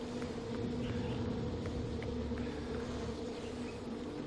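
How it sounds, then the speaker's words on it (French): Bees buzz in the video game Far Cry 4, a faint, steady hum with a few light ticks over quiet game ambience and no talk. "Et des abeilles par contre. J'aime pas du tout."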